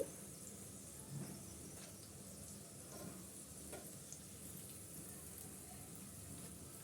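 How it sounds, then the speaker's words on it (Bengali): Stuffed vegetable snacks shallow-frying in a pan over medium-low heat give off a soft, steady sizzle, faint and even, with a few light bumps as pieces are turned. "আমি ভেজে নিচ্ছি এক পাশটা একটু হয়ে গেলে আমি অপর পাশটা একটু উল্টিয়ে দিচ্ছি"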